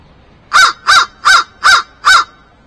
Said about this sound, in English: The feeding crow isn't getting close to the decoy, but he is tanking up